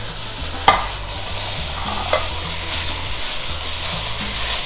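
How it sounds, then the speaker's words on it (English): Beef and chorizo mixture sizzles steadily in a hot pan, a dense broadband crackle throughout with a couple of sharper clatters from stirring or scraping, no voices. "my pan is plenty hot, and I'm gonna go ahead and add my beef and chorizo mixture"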